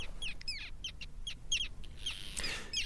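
Arctic terns calling over a Svalbard shore, sharp high chirps and squawks repeating in quick bursts at moderate distance over a steady low rumble of wind and surf.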